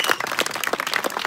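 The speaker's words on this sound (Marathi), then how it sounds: "टाळ्या करा टाळ्या दोघांसाठी टाळ्या करा" An audience applauds at a kusti wrestling league semifinal bout: dense, steady clapping from a crowd, moderately loud throughout, with no voices over it.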